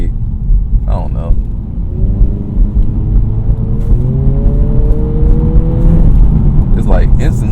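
A Honda Integra with a CVT pulls away slowly, its engine note rising in a steady, smooth drone toward redline under low road rumble, with brief voices near the start and end.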